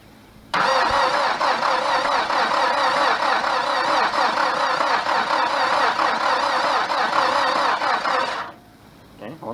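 A 1985 Dodge Ram 50 engine cranks and catches, then runs loud and steady close by for about eight seconds before cutting off abruptly, with no voices over it.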